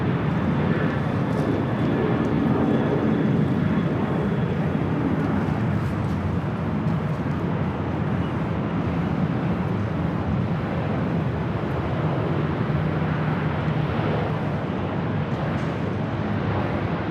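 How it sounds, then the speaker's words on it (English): A Southwest Airlines Boeing 737-700 arriving at LAX gives a steady, loud broadband roar of jet engines that holds throughout, under faint background noise with no talk. "Southwest Airlines Flight 493 coming up from Dallas Love Field. It's a 737-700."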